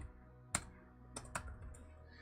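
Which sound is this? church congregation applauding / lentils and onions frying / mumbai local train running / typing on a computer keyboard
typing on a computer keyboard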